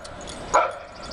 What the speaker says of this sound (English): The neighbor's dog is barking.